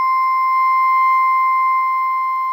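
A pure, steady electronic tone from a Chladni plate driven at its resonant frequency hums continuously at one pitch with a fainter higher overtone, loud and unchanging.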